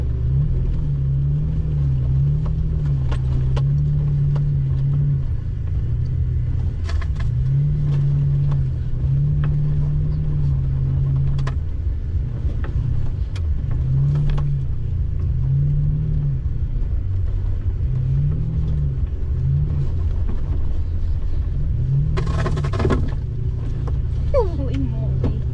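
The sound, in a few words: 2015 Toyota Tacoma truck driving in sand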